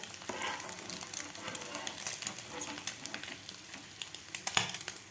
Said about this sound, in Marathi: खालची बाजूसुद्धा व्यवस्थित फ्राय झालेली आहे